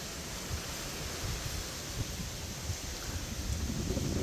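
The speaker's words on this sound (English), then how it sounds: "it's just so windy out here" Strong wind roars and buffets the microphone steadily, with low rumbling gusts that grow heavier toward the end.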